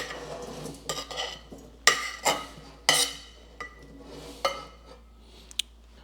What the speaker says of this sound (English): now we're just gonna put everything in the preheated basket